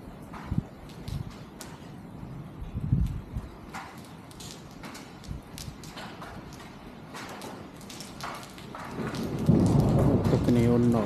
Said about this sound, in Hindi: बड़ी तफानी बारिश आ रही है